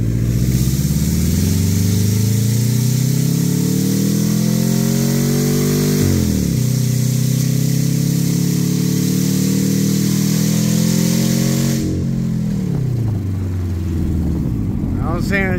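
A Subaru engine running with an open header and misfiring at upper rpm, roaring loud and close as it revs up and falls back in repeated sweeps, with a rough, stuttering edge to the exhaust note.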